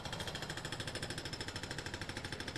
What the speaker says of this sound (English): you can really hear the jackhammer in the back